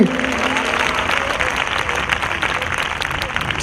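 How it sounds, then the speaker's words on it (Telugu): A church congregation claps together loudly and continuously in praise of Jesus, a dense steady wash of applause that fills the room throughout. "మనస్ఫూర్తిగా యేసయ్యకి చప్పట్లు కొట్టి దేవుని కనపరచండి"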